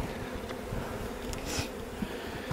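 Honeybees buzz faintly during their April orientation flight outside the hive, a soft, steady hum of many insects at a distance with occasional closer passes.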